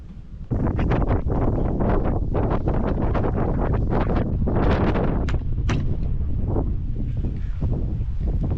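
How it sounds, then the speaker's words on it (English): Strong wind batters the microphone in loud, continuous rumbling gusts with sharp crackling flaps throughout, during a shed build with metal roof panels. "I think it's a bit windy"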